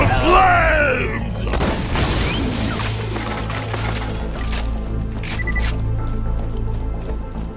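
Grenade blast from the shooter video game Borderlands 2, a heavy booming explosion at the start followed by rumbling game effects and clattering, with shouted game voices and sound effects over it.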